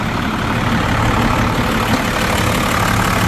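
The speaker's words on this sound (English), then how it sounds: "Show you guys this big Cummins diesel." A 12-valve Cummins turbo diesel in a Dodge W350 4x4 pickup idles steadily up close, a loud, continuous low rumble with an even throb and no voices.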